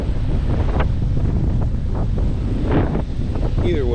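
Strong autumn wind blows steadily across the microphone outdoors, a constant loud buffeting roar with gusts swelling and easing throughout.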